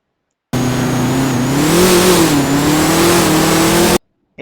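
An El Camino drag car launches hard off the line, its engine roaring loud and close in one sustained pull that rises and wavers in pitch for about three and a half seconds, with no talking.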